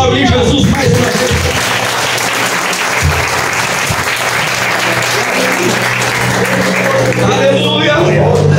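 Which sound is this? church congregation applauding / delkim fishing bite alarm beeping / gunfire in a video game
church congregation applauding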